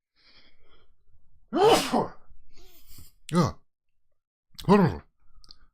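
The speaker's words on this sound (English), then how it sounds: "I think I'm going to sneeze here" A single person's sneeze, preceded by a few breathy intakes and followed by short gasps and sighs, close and fairly quiet.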